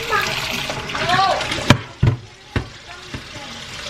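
Water poured and splashing onto dry masa dough in a bowl while making pupusas, wet sloshes and a few sharp slaps up close, with voices talking at the start.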